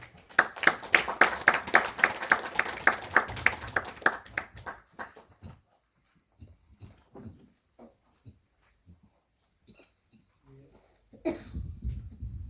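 An audience at an invited lecture breaks into scattered applause that holds for about five seconds, then fades. Quiet follows, broken only by a few soft coughs and shuffles.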